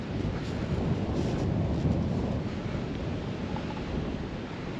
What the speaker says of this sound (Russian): А море там. Не за горизонтом, а здесь вот рядышком.